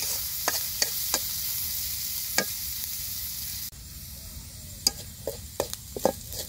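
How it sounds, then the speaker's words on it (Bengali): Onions frying in a pan give a steady, broad hiss of sizzling oil throughout, punctuated by occasional sharp scrapes and taps of stirring, the sizzle dropping slightly in level midway, with no talk. "পেঁয়াজ ভাজা হয়ে গেছে"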